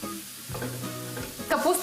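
Cabbage strips for chebureki dropped into a hot pan, a brief sizzle and stirring rustle with a louder burst of frying near the end.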